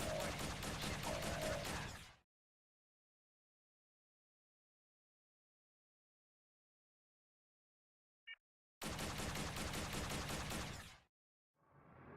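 An experimental weapon fires in a video game, two long sustained bursts of dense, rapid pulsing with dead silence between them and a short blip just before the second burst.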